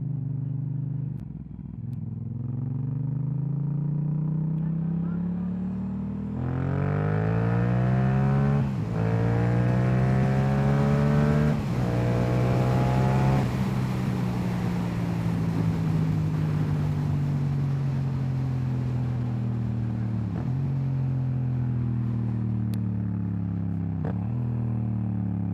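Yamaha MT-07 motorcycle engine revving while riding, its twin-cylinder drone rising and falling through several gear changes, climbing in pitch then dropping, loud and close with road and wind noise underneath.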